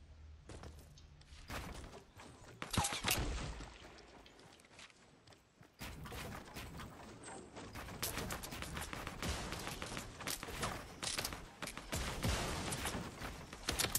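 Gunfire in the Fortnite battle royale game: bursts of rapid shots and impacts come and go over a lively mix of game noise, loud at times and fading at others.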